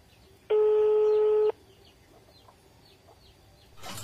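Telephone ringback tone on an unanswered call, a single loud, steady electronic beep lasting about a second, followed by quiet room noise, with a faint chirping bird in the background.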